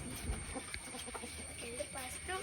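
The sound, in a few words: chicken clucking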